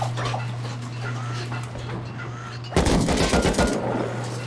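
Gunfire in the survival game Rust during a PvP fight: a dense burst of rapid shots breaks out midway over a steady low hum and ambient game noise, lasting about a second before the background resumes.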